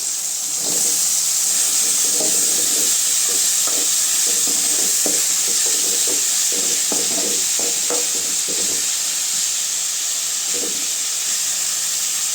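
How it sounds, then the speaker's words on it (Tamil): Brinjal pieces fry with softened tomato in a pan for a tamarind kuzhambu, giving a loud, steady hiss of sizzling and steam with bursts of stirring scrapes through the middle. "கத்திரிக்காய் கூட ரெண்டு ரெண்டு நிமிஷம் நல்லா வதக்கிக்கலாங்க"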